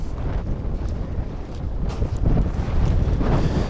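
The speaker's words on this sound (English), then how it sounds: "it's the beach, so it's gonna be windy, but it should sound different than yesterday" Wind blows at a beach and roars hard into the microphone as a continuous low rumble that grows stronger toward the end, with no voices.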